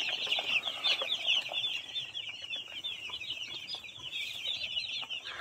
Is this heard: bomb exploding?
no